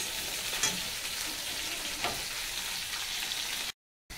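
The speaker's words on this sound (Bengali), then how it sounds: "আর পটলগুলো ভাজা হোক ততক্ষণ।" Pointed gourd (potol) frying in oil gives a steady, close sizzle with faint stirring clicks, running without speech until it cuts off abruptly near the end.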